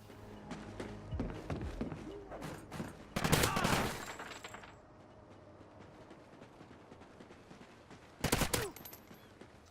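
Bursts of rapid gunfire in Call of Duty: Ghosts crackle in two loud volleys, separated by quieter background noise and scattered smaller shots.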